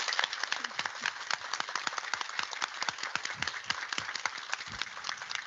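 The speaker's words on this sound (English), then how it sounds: "I hope that you can hear a very warm applaud from the earth up to you" Audience applause on Earth sent up to an astronaut aboard the space station, a dense, fairly faint patter of many hands clapping steadily throughout.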